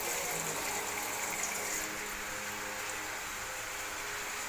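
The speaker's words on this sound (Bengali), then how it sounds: "ওই জন্যই মনে হচ্ছে একটু জল দিয়ে দিই" Water being poured from a plate into a pan of vegetable chorchori curry in a home kitchen, a steady close gushing splash that runs continuously and eases slightly partway through, with no talking.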